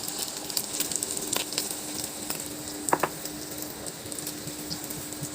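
Egg added to hot bacon fat in a frying pan, hissing with a steady close sizzle and scattered small pops, with one sharper crackle midway.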